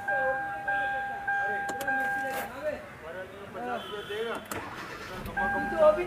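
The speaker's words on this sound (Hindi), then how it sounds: "तो गाड़ी को एक बार स्टार्ट करते हैं।" A Hyundai Verna with an automatic transmission being repaired cranks and starts up nearby, its engine catching toward the end while someone talks over it.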